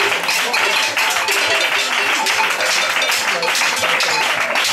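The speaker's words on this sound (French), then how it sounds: "Acclamez pour Jésus." A church congregation in Cotonou claps and cheers for Jesus during a dowry ceremony, producing dense, steady applause that carries on without a break, with voices mixed into it.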